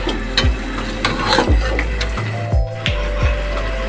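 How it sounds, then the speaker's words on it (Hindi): Beef pieces tossed with onions in a pot while cooking achar gosht, giving a few soft scraping stirs of a spoon at a slow, uneven pace over a low steady background hum. "बीफ अच्छे से प्याज के साथ मिक्स हो गया"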